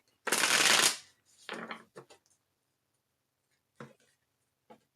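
Tarot cards riffle-shuffled up close in one long loud burst, then a second shorter shuffle, followed by a few light taps and card snaps.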